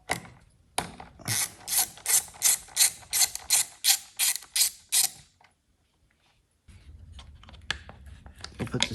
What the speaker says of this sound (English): Loosen that screw off.